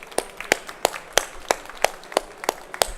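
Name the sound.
audience round of applause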